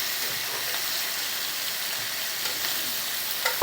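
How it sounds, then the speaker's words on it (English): Bacon fries in a pan with a dense, even sizzle and crackle, close and loud, that runs without a break. "We'll end up fixing the bacon first, cooking it, and then we'll crumble it after it ends up draining."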